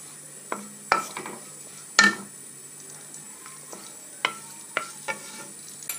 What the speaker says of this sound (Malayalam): അണ്ടിയും ഉണക്കമുന്തിരിയും ഇവിടെ വറുത്ത് എടുത്തിട്ടുണ്ട്